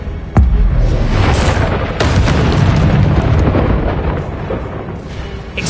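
Confringo fire spell blast in the Hogwarts Legacy video game, a loud booming explosion that hits sharply and keeps rumbling in a dense, sustained roar for several seconds.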